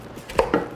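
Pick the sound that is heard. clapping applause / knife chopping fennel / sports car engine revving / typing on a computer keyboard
knife chopping fennel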